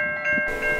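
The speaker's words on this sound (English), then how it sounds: "You have just saw two CN trains on the Barrie line." A CN freight train passes on the Barrie line, heard as a steady mechanical drone with a strong sustained tonal whine, loud and close for under a second with no talk.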